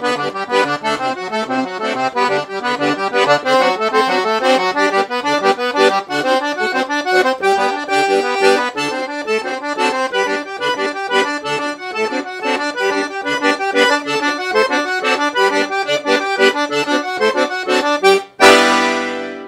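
Piano accordion playing forró with shifting chord voicings and inversions over a driving bass, a continuous bright reedy texture that fills the whole passage before stopping abruptly, with no voices.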